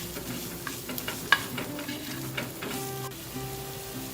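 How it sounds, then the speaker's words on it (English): Garlic, onions and curry leaves sizzle steadily in a pan for a sardine curry, with scraping stirs and occasional clinks of a spoon against the pan, close and moderately loud, no talking. "Let's now stir the ingredients."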